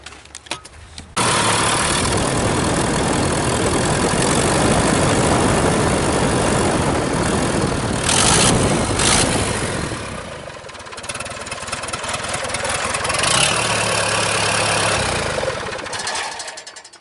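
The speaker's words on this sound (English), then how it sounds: "We're going to just fire it once real quick, just make sure it spins the turbo." A Cat 3116 turbo diesel engine in a rat rod cranks and catches, running loud and rough with a clattering roar and an exhaust leak at a flange, then drops to a lower idle before surging once more.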